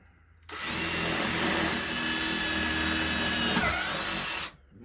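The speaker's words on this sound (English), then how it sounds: "Drill a hole through it." A power drill bores a hole through a cymbal indoors, a steady, loud whining grind lasting about four seconds with a faint ringing squeal partway through, then stopping abruptly.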